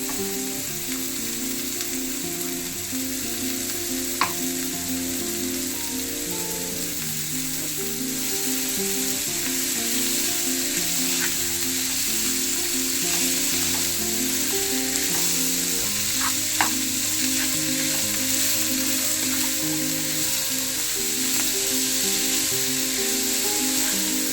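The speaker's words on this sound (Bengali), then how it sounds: "এবার এর মধ্যে আমি দিয়ে দেবো গাজর কুচিগুলো আর কিমা করা মাংসটা আমি একসঙ্গে দিয়ে এবার এগুলোকে নাড়তে থাকি" Chopped carrots and minced chicken sizzle steadily in a frying pan for chicken singara filling, a constant close frying hiss with occasional light scrapes of stirring, no talking.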